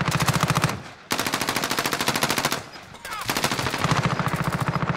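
Rapid automatic gunfire from a fast-firing weapon in Call of Duty Warzone, loud sustained bursts broken by two brief pauses as the magazine empties.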